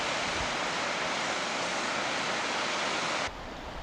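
A waterfall in a park, heard on a walk while looking for a place to cross, fills the air with a constant, dense roaring rush that drops to a slightly softer level just before the end.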